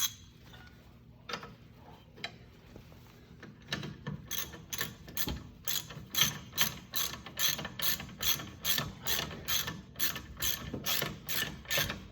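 A ratchet tightens the flange bolts during rear trailing arm bushing work on a BMW E46, giving a steady run of close, crisp clicks after a few quieter early sounds.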